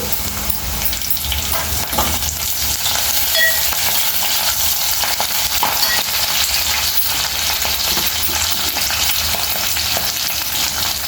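Colocasia (chamagadda) curry sizzles loudly in a pan while being stirred, a constant frying hiss broken by scraping and clinking strokes, with no talk.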